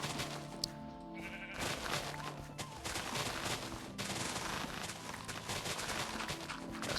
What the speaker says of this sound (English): Stop running towards the grass, sheep.